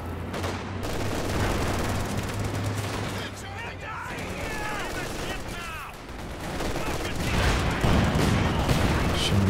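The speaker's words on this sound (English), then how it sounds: "ISG's now returning fire, barraging the mortar half tracks." Artillery barrages and rolling small-arms fire in Company of Heroes 2, a World War II strategy game, with infantry guns shelling mortar half-tracks and machine guns firing from the side, a dense continuous battle din under a commentator's voice.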